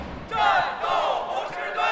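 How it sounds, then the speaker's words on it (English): Football fans cheer and chant together outside a stadium before a cup game, a steady crowd roar that swells in waves, sustained and moderately loud throughout. "Fans were already outside the stadium cheering for their home team."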